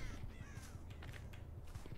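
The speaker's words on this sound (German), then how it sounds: "Hier flogen auf jeden Fall Krähen." A few harsh crow caws from Dead by Daylight ring out over a low, rhythmic mechanical creaking, fairly faint and distant.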